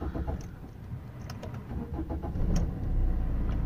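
A car engine cranks and catches, then settles into a steady idle that swells louder toward the end, close by and alone with no talking.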